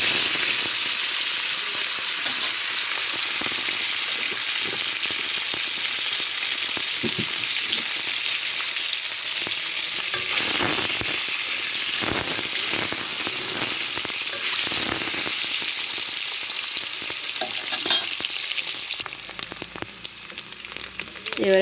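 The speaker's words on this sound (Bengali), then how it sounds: "হালকা আঁচে ভেজে নিতে হবে" Eggs salted and frying in oil on low heat for an egg and potato curry give a dense, steady sizzle throughout, with scattered clicks and scrapes of stirring growing busier in the middle before the sound thins near the end.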